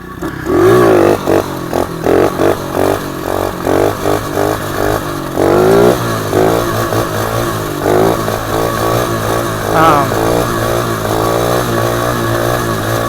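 An SSR 110 pit bike fitted with a Grom clone engine runs loud and close, revving repeatedly in quick rhythmic bursts before it settles into a steadier, rougher engine note.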